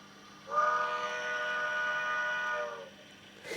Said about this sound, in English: I wasn't expecting such a grand whistle from such a small bony loco.